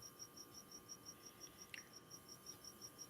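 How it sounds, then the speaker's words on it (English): An indoor cricket chirps in a steady, evenly spaced series of short, high trills, faint and continuous against a quiet background hum. "Lag, you don't hear my cricket? I sure hear him"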